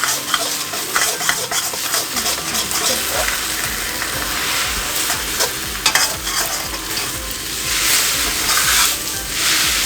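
Eggs scramble in a hot pan with cooking noodles for pad thai, a loud continuous sizzle up close with repeated scraping stirs and occasional utensil clicks throughout, with no talking.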